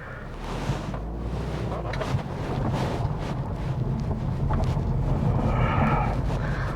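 A 2010 Subaru Impreza WRX STI with a 2.0-litre engine and six-speed manual transmission driving on the road, heard from inside as a steady rumbling roar with strong wind and road noise, slowly growing louder.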